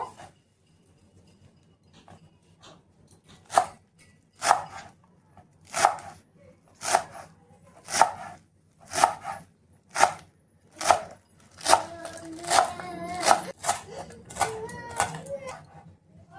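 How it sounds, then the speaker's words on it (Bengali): Knife chopping fresh coriander leaves on a cutting board for a chutney, a series of crisp evenly spaced chops that quicken into faster bursts near the end, close and clear with faint background voices. "তার জন্য এই যে ধনে পাতাটা আমি কেটে নেব।"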